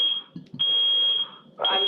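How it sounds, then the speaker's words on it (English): A smoke alarm goes off in a room, a loud, piercing continuous high beep that cuts out briefly and resumes, sounding close and alone. "we're having an alarm go off here"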